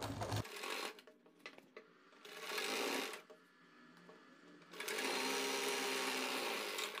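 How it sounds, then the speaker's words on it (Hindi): Sewing machine stitching the gathered seam of an umbrella palazzo, running in loud bursts with brief pauses between stretches of stitching. "तो ये हमने अपनी गिदरी की सिलाई लगा ली है।"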